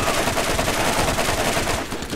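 A loud, continuous barrage of gunfire in the shooter game Borderlands, dense overlapping shots firing rapidly and evenly throughout, close and dominant.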